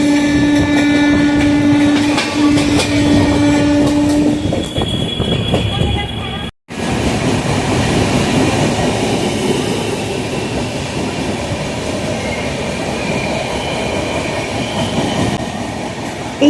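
Passenger train running on the journey to Puri, Odisha, a loud continuous rumble with clattering wheels and a brief squeal early on, heard from inside and close throughout with a short cut midway.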